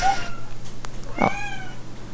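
A pet cat gives a clear meow, with a shorter cry just before it, over a steady low background hum. The cat sounds moderately close, and no talk runs over it.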